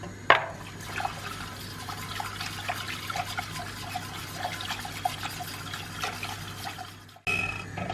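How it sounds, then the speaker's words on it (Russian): Flour and water being whisked together in a bowl for Turkish Arabaşı soup, giving a steady, soft, wet stirring and sloshing texture at close range for several seconds, with a brief clink at the start and a short break near the end. "Чтобы сделать муку немного такой жидкой, добавляю воду. И сейчас все хорошо перемешаю венчиком."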